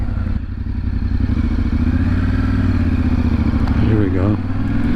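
A 2025 Yamaha Tenere 700 rolling at low speed, a steady close engine rumble and drone with wind buffeting and a brief clatter near the end, voices briefly audible.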